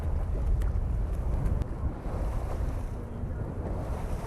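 Small waves wash through Galway Bay during an Ironman 70.3 triathlon swim, a steady broadband surf rush mixed with loud wind buffeting the microphone, with no voices.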